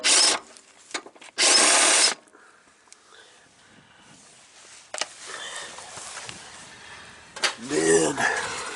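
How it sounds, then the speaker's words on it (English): A power tool bursts loudly twice while removing a 10mm bolt on a 2009 Jeep Wrangler during an EGR valve replacement, followed by quieter handling noises and a later short whirring burst, close to the listener. "I think first I'm going to just go after this 10mm bolt."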